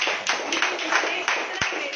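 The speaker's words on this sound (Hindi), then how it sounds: "तो हमारे सभी मोदी सर के लिए पहले तो तालियां हो जाए।" An audience at a Hindi-language product presentation claps in a brisk, uneven burst of hand claps, fairly close and loud, with a voice talking over it.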